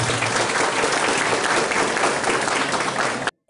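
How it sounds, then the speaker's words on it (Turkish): Loud, dense audience applause at a community gathering for disabled people, with sustained clapping for about three seconds that cuts off abruptly. "Hadi bir alkışlıyoruz kardeşimizi."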